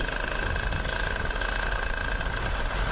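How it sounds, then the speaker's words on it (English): A paramotor engine runs at a little throttle, producing a steady, loud mechanical drone with a constant whine and no break or change across three seconds. "Okay, so let's give it a little throttle."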